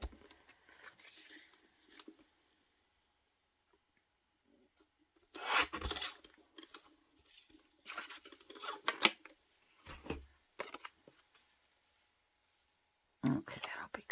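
Paper being trimmed with scissors for a crossword-puzzle collage, several short close snipping and rustling bursts separated by quiet gaps, with faint soft speech in places.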